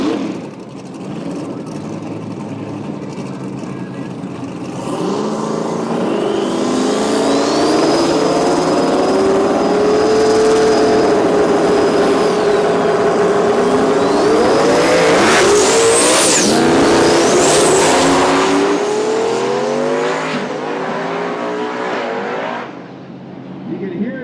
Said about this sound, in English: You can hear the tires spin, and then you can just hear it chirp.